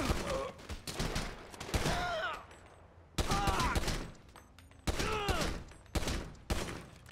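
Grand Theft Auto 5 gunfire: repeated loud fusillades of rapid shots in several bursts, close and dense, with game voices and groans mixed between them.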